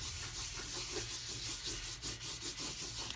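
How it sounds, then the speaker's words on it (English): Crinkled dry paper towel rubbed steadily back and forth over a wax paste finish, a continuous close scratchy rustle with soft rhythmic strokes and no talk. "I'm going to take this dry paper towel, just crinkle it up, and I'm just going to start to just rub all over it"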